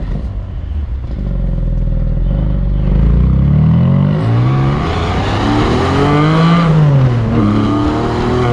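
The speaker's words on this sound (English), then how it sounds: "I really hope you guys can get a glimpse of this exhaust note" A Porsche 718 Spyder with a high-revving manual transmission revs loudly up close, its exhaust note rising and falling in sweeping pitch climbs between gear changes and echoing off buildings, no talking.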